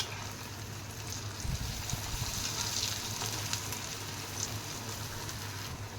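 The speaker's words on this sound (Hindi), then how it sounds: "ये सिर्फ हाई फ्लेम पे जाएंगे, हल्का सा फ्राई होंगे और बाहर आ जाएंगे" Paneer tikka frying on a high flame, a dense, even sizzle with scattered crackles, close up and unbroken, with a low hum underneath.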